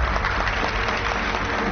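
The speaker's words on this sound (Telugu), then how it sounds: "క్లాప్" A crowd of audience members clapping in a scene from the Telugu-dubbed film Sarkar, sustained and fairly loud, a thick even wash of clapping with no clear pauses.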